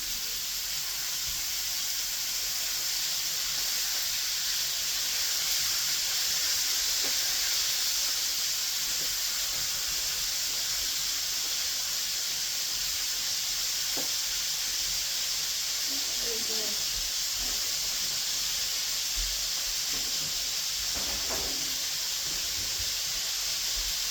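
Italian sausages sizzle in a hot pan while being flipped, producing a loud, constant hissing fry with a few faint clinks and scrapes, and a voice speaking now and then.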